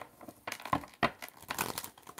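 Tarot cards riffle and flap in quick bursts, papery crackles coming close together for a couple of seconds, near and fairly loud.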